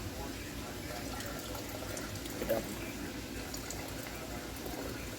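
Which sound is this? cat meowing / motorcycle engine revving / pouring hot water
pouring hot water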